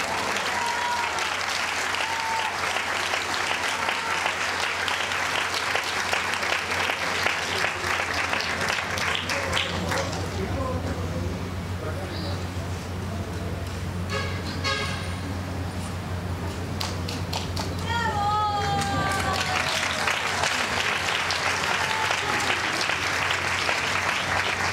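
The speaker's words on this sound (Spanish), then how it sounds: "Felicitaciones y el aplauso para Samantha Moreno Ríos." A large audience applauds steadily at an International Women's Day award ceremony, dense sustained clapping that eases slightly midway and swells again, with faint voices and cheers mixed in.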